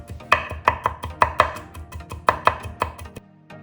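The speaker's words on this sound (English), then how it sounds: "Mince 3 cloves of garlic finely." Garlic cloves minced finely with a knife on a cutting board for Korean soft tofu stew, a brisk run of sharp close chops in quick rhythm, then a short pause and a softer final tap, no voices.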